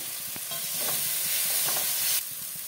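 Spice paste of ground coriander, cumin and turmeric with ground tomato and green chili frying in a pan with a little water for a Bengali katla fish kalia, a steady close sizzle broken by a few soft stirring scrapes, no voices.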